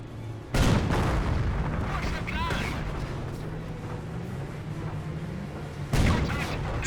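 Pioneers blow up in Company of Heroes amid battlefield combat, with heavy explosive booms at the start and again near the end over a continuous rumble of gunfire, while a commentator talks throughout.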